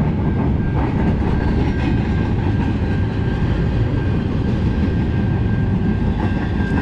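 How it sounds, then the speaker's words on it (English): A long train rolls past close by, a loud, continuous rumble with steady rail clatter that holds for the whole stretch without letting up. "Yeah, it's a long train."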